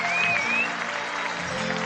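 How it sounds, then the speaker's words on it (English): A baseball crowd in Curaçao gives a pitcher a standing ovation, steady loud applause and cheering with a whistle near the start, swelling early and then holding. "he gets a standing ovation from the crowd"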